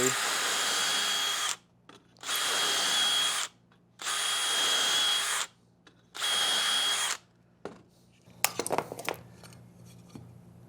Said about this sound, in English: we go ahead and drill the 3